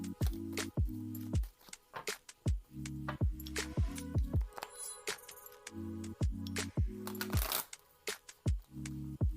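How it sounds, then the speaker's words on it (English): Tarot cards are shuffled by hand in repeated riffling bursts with short pauses between them, close and crisp, and no one speaks. "let's go ahead and shuffle up these cards"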